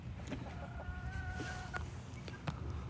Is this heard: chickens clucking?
yes